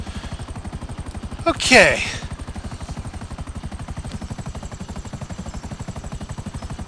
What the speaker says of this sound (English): We want to just start shooting people with the helicopter?